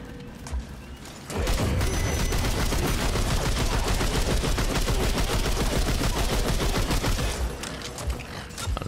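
Sustained automatic weapon fire in the video game Remnant 2, a loud rapid stream of shots for about six seconds after a brief quieter start, then tapering off.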